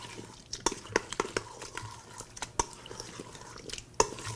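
Raw chia seed cereal with vanilla being stirred in a bowl: soft wet sloshing with a few sharp spoon clicks at irregular intervals, close and quiet.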